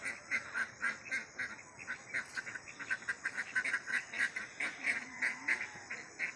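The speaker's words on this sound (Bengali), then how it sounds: "আর যে হাঁস ডাকছে, হাঁসগুলো আবার খিদে পেয়েছে" Ducks quacking repeatedly in a rapid, rhythmic series, fairly close and clear, with several birds calling over one another.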